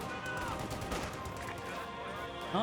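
Artillery and mortar fire from a US barrage in Company of Heroes 2, heard as a dense stretch of overlapping booms and crackling impacts that stays loud throughout, with game sounds layered underneath.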